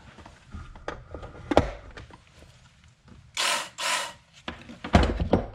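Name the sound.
Work Sharp electric knife and tool sharpener running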